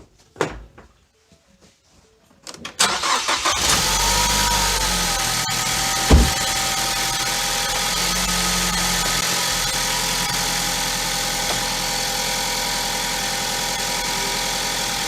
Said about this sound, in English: Now we're going to start it up and see what kind of alternator voltage I'm getting.